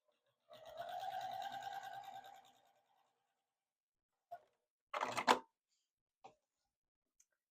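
Domestic sewing machine stitching a bandana bag, a steady mechanical whir lasting about two seconds, followed by brief clicks and a short burst of handling noise, with no talking.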